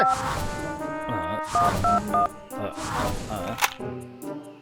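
A telephone number is punched in on a cartoon phone: a quick run of clear keypad beeps, loud and close, amid other cartoon sound effects and voices.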